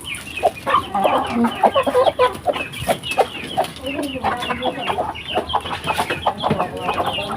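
A flock of chickens clucks busily and close by at feeding time on a rural farm, overlapping calls in a constant chatter.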